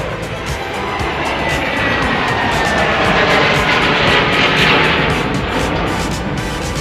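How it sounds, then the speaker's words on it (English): Bombardier Global 7500 business jet passing near Dallas Love Field, a loud sustained roar that swells and slowly fades while wind buffets the microphone. "That was a Bombardier Global 7500 headed to LAX."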